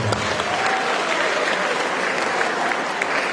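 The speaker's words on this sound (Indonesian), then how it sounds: "Tepuk tangan lagi untuk kalian." Sustained applause from a student audience at a motivation day session, a dense, steady wash of many hands clapping that fills the room, with a faint voice underneath.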